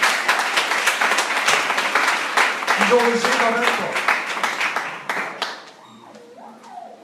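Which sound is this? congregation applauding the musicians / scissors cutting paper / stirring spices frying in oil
congregation applauding the musicians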